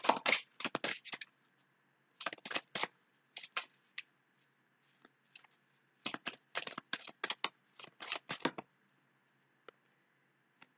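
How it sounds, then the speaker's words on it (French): Oracle cards are shuffled by hand in several quick riffling bursts, close and crisp, separated by quiet pauses and a few isolated soft taps as the cards are handled and drawn. "On va tirer la carte conseil, le message aussi"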